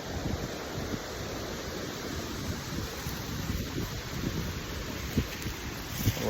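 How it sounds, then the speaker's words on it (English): Steady, blustery wind roars against the microphone, a continuous broadband rush with occasional thumping gusts, no voices. "A little bit of a windy day here in the homestead."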